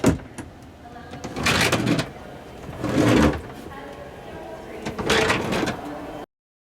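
A HondaJet's cabin door is pulled shut, heard as a few broadband sliding and latching bursts at close range, separated by quieter mechanical handling noise, with no talking.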